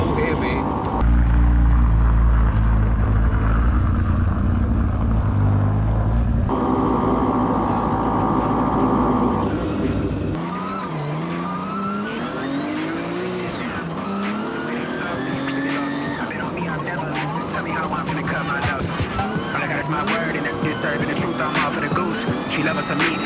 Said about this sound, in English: an amazing opportunity we've got here to go out in a rally car, to actually experience the sequential